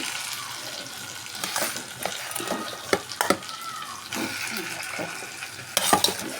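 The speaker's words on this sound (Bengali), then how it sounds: "একটু মশলাটা ভালো করে কষিয়ে নিয়েছি, মশলার মধ্যে দিয়েছি জিরে, ধনে, শুকনো লঙ্কা, আদা, রসুন, পেঁয়াজ" A spiced masala of cumin, coriander, dried chilli, ginger, garlic and onion fries in a pan with a steady close sizzle, broken by several sharper scrapes and clacks of stirring, with no talk.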